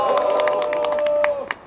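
Scattered clapping from an audience at a Jeonbuk city and county council chairmen's rally, greeting a council chairman as he is introduced. Sharp, uneven claps ring out over a steady held tone and crowd murmur, then trail off near the end.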